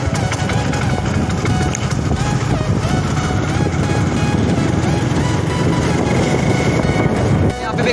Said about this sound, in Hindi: क्या आवाज़ दे रहा है बाइक